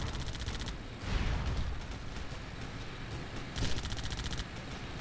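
A tank gun fires in the WWII game Theatre of War at the Battle of Moscow, a heavy boom at about one second followed by another blast later, over a bed of rattling machine-gun fire and engine noise.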